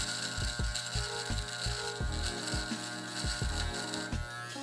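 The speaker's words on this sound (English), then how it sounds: "I would take my trimmers and I'll bring them" Electric hair trimmers buzz steadily close up while trimming a beard in a fade blended into a bald head, with repeated clicking, ratcheting ticks over a constant hum.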